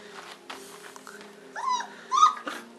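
Saint Bernard puppies around four to five weeks old play and growl close by, with short yips and whimpery growls rising in two bursts as someone speaks softly to them.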